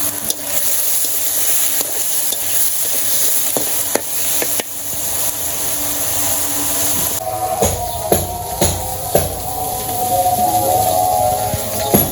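Marinated soybean chunks sizzle loudly in hot oil in a village kitchen, a bright, constant frying hiss punctuated by sharp scrapes and knocks of stirring that grow busier partway through.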